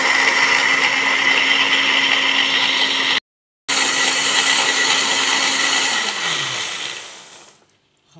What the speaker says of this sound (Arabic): هنضرب بقى المكونات الجميله اللي احنا عملناها دي كده اهو، ضربه حلوه كده تخليه كريمي خالص